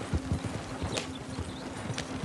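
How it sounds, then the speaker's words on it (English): Galloping horses pulling a carriage in the video game Red Dead Redemption 2, a fast rhythmic clip-clop of hooves running steadily and fairly close throughout, with no talk. "The horses in the carriage get startled and they run."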